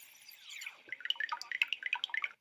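Water drips in a quick irregular series of bright plinks, loud and close, following a soft liquid trickle and pattering on alone with no voices.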